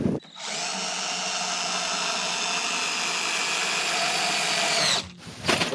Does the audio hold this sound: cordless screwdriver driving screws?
yes